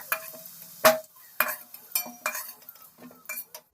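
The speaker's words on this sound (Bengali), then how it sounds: "আলুগুলো লাল লাল করে ভেজে নেব" Potatoes frying in a wok, a spatula scraping and clinking against the metal in repeated uneven strokes over a faint sizzle.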